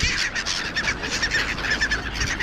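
Dense, continuous bird calling and squawking from a flock, loud and close, with overlapping chirps and harsh cries filling the scene without any voices.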